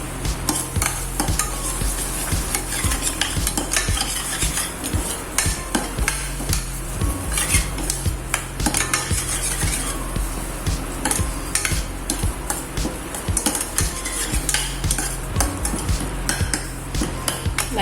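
Tomato kuruma paste sautéed in a pan over a medium flame, with constant busy scraping and clattering of a spoon against the pan over a bed of sizzling oil, close and continuous, no voices.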